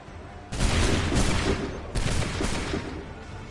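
Two loud musket volleys ring out from ranks of soldiers in Assassin's Creed 3, each a crackling burst of many shots at once followed by a short rattling tail, the second about a second and a half after the first.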